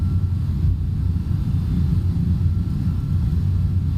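An MD-11 airliner rolls out along the runway after landing in a flight simulator, a steady, loud low rumble of engine and wheel noise that holds constant and unbroken throughout.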